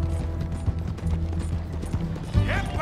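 Horse hooves clip-clop in steady, fairly close beats in the video game Red Dead Redemption 2, with a brief higher whinny-like sound near the end.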